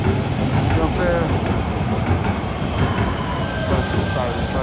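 A train runs past on a downtown Los Angeles street, its steady rumble and rolling rail noise sustained throughout at close range, with a faint wheel squeal and voices mixed into the din.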